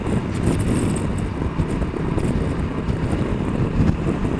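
Riding a Honda NT1100 motorcycle at about 70 mph, a steady heavy roar of wind buffeting the helmet microphone with low rumble underneath, constant and loud with no pauses.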